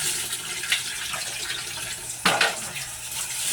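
Tap water runs steadily into a kitchen sink while dishes are washed at home, a continuous hiss with a brief louder splash or clatter partway through.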